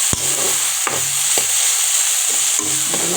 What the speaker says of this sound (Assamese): এনেদৰে অলপ সময় লৰাই থাকিম। যিহেতু তেল কমকৈ দিছোঁ, গতিকেলৈ লৰাই থাকিব লাগিব।